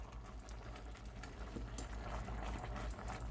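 A pot of potatoes at a rolling boil on a stove, a faint steady bubbling and popping patter close by with no talk.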